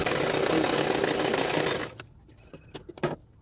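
An electric sewing machine stitches a blouse at a steady run for about two seconds, then stops, leaving a few short bursts and clicks as the fabric is shifted.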